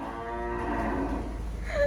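A young cow under a year old gives a single drawn-out low moo, close and clear, with no voices.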